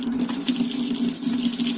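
Water runs steadily and loudly through a newly installed MK99 water filter, a continuous gushing flow with a low hum underneath and no talking.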